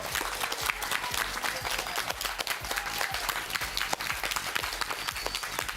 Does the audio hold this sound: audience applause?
yes